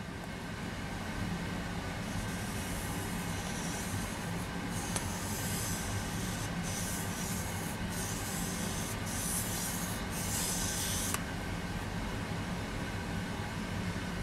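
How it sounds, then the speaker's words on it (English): A Mora Scandinavian-ground knife is sharpened on a wet whetstone, giving steady rhythmic rasping strokes that repeat in a close, even grinding pattern over a constant background hum. "make sure my stone is wet, and I'm just going to start to sharpen it."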